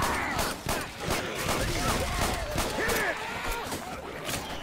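Rapid gunfire in the video game Left 4 Dead 2 crackles as a dense run of repeated shots with irregular bursts, while players talk and shout over the shooting.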